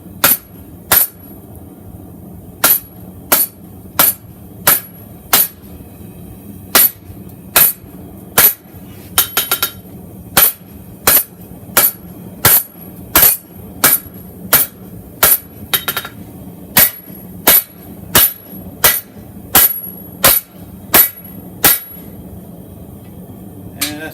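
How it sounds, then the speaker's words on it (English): Hammer blows on hot steel while forging a chef knife, sharp ringing metallic strikes landing in a steady, slightly uneven rhythm about once a second, loud and close, with low shop noise between hits. "we can keep hammering that down"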